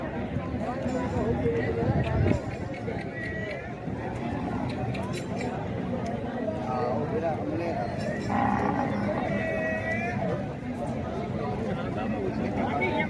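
Cattle, including a female calf of the Turkistani breed, moo repeatedly at the Shaikh Wahan livestock market in Iqbalabad on the Multan road, with hoof shuffles and people talking throughout.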